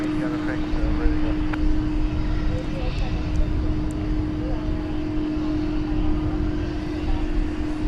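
A plane takes off at Dallas/Fort Worth Airport, its engines a loud, steady low roar with a sustained droning hum and voices faintly in the background.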